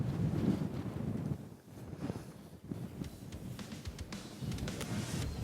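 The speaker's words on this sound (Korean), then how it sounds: "자 바람이 엄청나게 심하게 불고 있습니다" Strong gusting wind buffets the microphone outdoors on a golf course, a steady low roar that dips briefly and surges again, with no talk.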